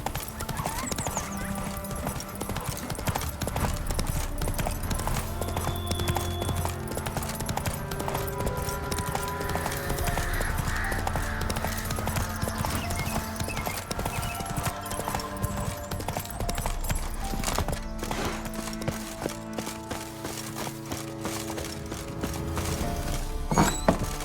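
Roach, a horse in The Witcher 3: Wild Hunt, gallops with a steady, fast clip-clop of hooves that runs throughout, close and clear over continuous background music, with no voices.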